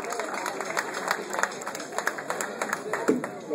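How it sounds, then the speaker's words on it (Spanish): Audience at an outdoor blues concert in Pehuenco applauds, a fairly faint, scattered patter of clapping with a few voices under it. "El aplauso de Neuquén"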